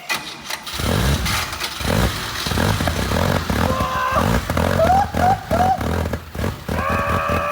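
A revived engine turns over and catches, then keeps running with a loud, close, rough roar that settles toward a steadier hum near the end.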